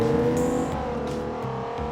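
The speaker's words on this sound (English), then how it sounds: "The only real noticeable difference is the throttle busts wide open, and that engine note becomes much more pronounced." A 2019 Lexus LC500h hybrid drives at wide-open throttle, its engine giving a steady, whiny, strained drone with road and wind noise, loud and sustained for a couple of seconds.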